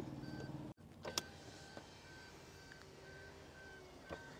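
Power window motor on a 2025 Toyota Glanza running through its auto up and auto down travel, a steady faint whir with small clicks at the start and end, close by with no talking.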